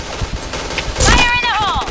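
Rapid gunfire bursts from a shooting video game, several sharp shots in quick succession mixed with in-game effects and a rising whistling tone, with people talking over it.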